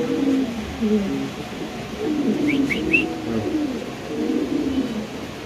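Low, soft cooing from Spanish pigeons repeats through the clip, with a few faint higher chirps near the middle and a steady background hum.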